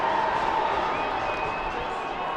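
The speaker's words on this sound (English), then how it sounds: "very parochial Melbourne Storm crowd behind him, cheering him on" A parochial Melbourne Storm crowd at a Jersey Flegg rugby league grand final against Penrith keeps up a steady, broad roar of cheering as a goal kick is lined up, with a commentator's voice mixed into the crowd noise.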